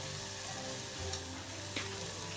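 Peppers, onions and garlic for green chili sauce sizzle steadily in a hot pan, a dense continuous frying hiss with faint crackles throughout and no voices.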